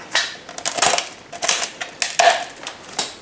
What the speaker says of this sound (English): I really only need to cut the end of this off. And the razor knife works perfect for that.